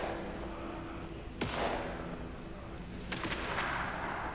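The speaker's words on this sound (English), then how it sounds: "we got 2 rifle shots and we got some gunfire coming from that away" A few sharp distant gunshots in the video game Alan Wake 2 ring out over a constant rain hiss, one single rifle crack followed later by a quick cluster of shots.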